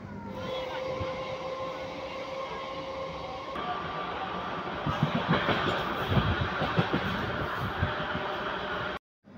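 An Indian passenger train runs between Delhi and Chulkana, a steady rumbling roar with a continuous rattle of carriages that swells and grows busier midway, loud and close, then cuts off abruptly at the end.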